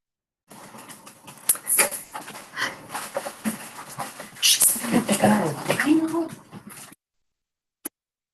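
A loud dog in a room makes rapid panting and whimpering noises close to the microphone, coming in uneven bursts for several seconds before falling silent, with a short sharp sound near the end.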